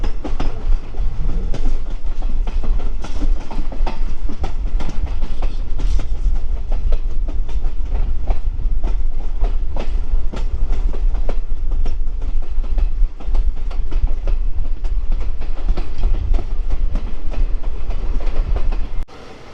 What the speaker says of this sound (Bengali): দেখুন বন্ধুরা, আমাদের ট্রেন এখন চলছে 40 স্পিডে।